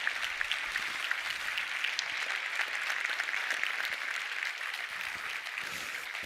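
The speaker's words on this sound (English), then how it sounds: "give a big round of applause again for these amazing" Sustained audience applause for start-up entrepreneurs at a European health start-up pitch final, a steady dense wash of clapping at even loudness throughout with no talk over it.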